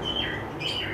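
Giribaz pigeons and other fancy birds in a bird and fish shop in Kolaghat, East Midnapore, with two short high chirps over a steady background murmur.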